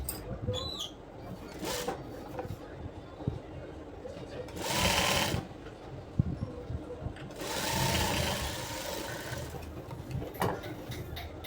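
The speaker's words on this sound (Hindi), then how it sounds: "हमें इधर भी ले लेना है सिलाई करके इस तरह से" A sewing machine stitches a sleeve in short runs of rapid, rhythmic ticking, near and clear, with two longer louder bursts and someone talking between and over the stitching.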